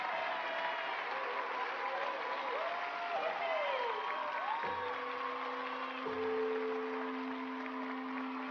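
An audience applauds two champions, a sustained wash of clapping from a crowd while musical tones and brief vocal sounds rise over it.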